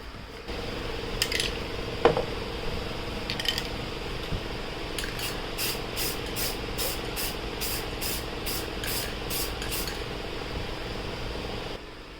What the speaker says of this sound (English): Okay, I'm gonna coat this.